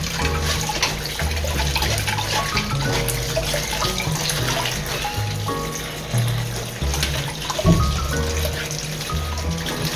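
Water from a tap runs steadily over salted vegetables being rinsed for kimchi, a loud continuous splashing flow with shifting clunks and sloshes of handling in a sink.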